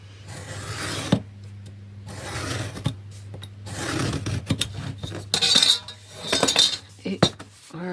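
Scissors or a blade cut through washi tape for a scrapbooking storage project, giving scraping, rasping strokes with a few sharp clicks over a steady low hum, close and moderately loud.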